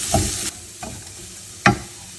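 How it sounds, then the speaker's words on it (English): Spices with hing sautéing on a medium flame, a soft sizzle broken by three distinct stirring scrapes in the pan, close by and with no talk. "And now let's saute this on medium flame really well."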